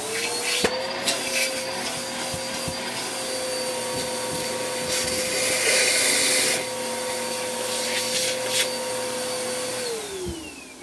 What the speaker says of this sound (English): A vacuum cleaner, vacuuming another vacuum cleaner.